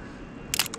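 Canon M50 shutter firing during street photography in London, a quick, sharp double click near the end of the clip, close and clear over faint city background.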